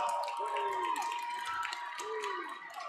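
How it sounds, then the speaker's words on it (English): A high school basketball crowd roars after a one-handed dunk in a district tournament championship game, a sustained, fairly faint wash of cheering and scattered clapping with voices rising through it. "And you can hear the crowd."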